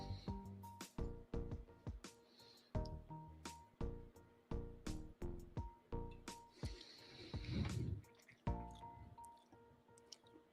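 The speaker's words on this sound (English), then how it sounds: "I'm just going to bottle chug this one. I don't even need to pour this in a Glen." Whisky is drunk straight from the bottle, with close, wet gulping and liquid glugs in a halting rhythm of swallows and sloshes, plus a breathy exhale near the end.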